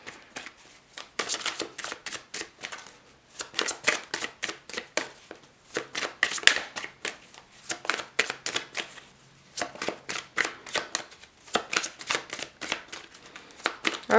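A tarot deck riffled and shuffled repeatedly at close range, crisp fluttering bursts in quick runs separated by brief pauses, with no talking.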